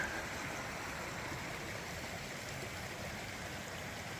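Creek swollen with spring runoff in an Idaho canyon near an old ghost town, a steady close rushing and gurgling of flowing water with no talking.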